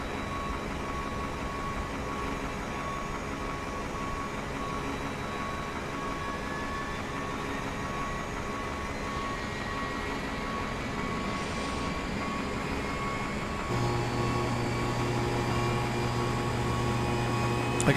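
Cockpit of an Airbus A321neo airliner in Microsoft Flight Simulator 2024, a steady dense engine and air-conditioning drone with faint tones and a low hum that grows slightly louder near the end.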